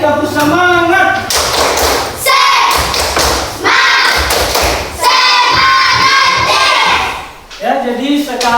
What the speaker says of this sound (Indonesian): jadi sekali lagi tepuk semangat